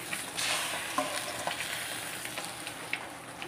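Hot oil crackling and spitting around frying fish, a close, continuous sizzle dotted with sharp pops and splatters.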